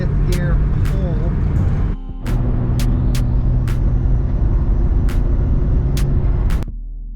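A Nissan 240SX with an RB20 engine pulls hard in fifth gear, a loud, close, sustained engine drone that dips briefly once and then resumes, with sharp clicks scattered over it.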